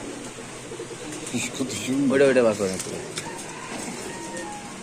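Racer pigeons at a pigeon market coo in a short, close burst partway through, heard under and between people talking nearby.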